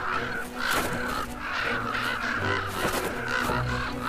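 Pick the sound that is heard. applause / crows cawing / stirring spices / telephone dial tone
crows cawing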